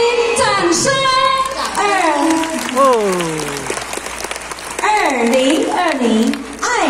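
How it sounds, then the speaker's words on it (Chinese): An audience at a classics-reading award ceremony at Kun Shan University in Tainan breaks into loud applause, mixed with voices and a sung or spoken tone that rises and falls. "掌声"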